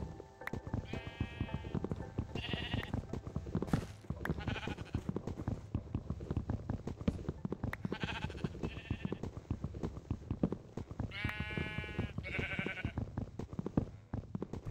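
Several sheep bleat repeatedly in bursts, some overlapping, over a constant busy clatter of background noise from Minecraft.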